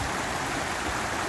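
A small mountain stream near Lazarevskoye rushes and babbles close by, a dense steady wash of flowing water with no voices.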